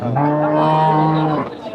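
A dairy cow at the Raniganj cattle market lets out a single long, loud, close moo that holds steady before tapering off at the end.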